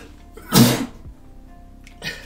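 A single sharp sneeze bursts out once, fairly close and loud, against a quiet room background during a live tech stream, followed by a faint short rustle.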